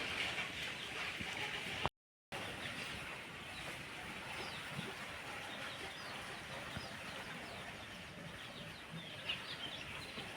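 Chickens clucking on a farm that also keeps sheep and cows, a faint, continuous backdrop of scattered clucks under steady ambient noise, with a brief silent gap early on.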